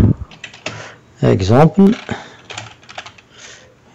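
Quiet clicks of keys being typed on a computer keyboard, sparse and soft, under a man's speech.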